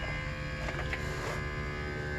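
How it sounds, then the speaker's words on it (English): A small air compressor running nearby in a shop during a semi truck gear oil change, a steady buzzing electric hum with a faint rattle, constant throughout. "that stupid little compressor that you can hear"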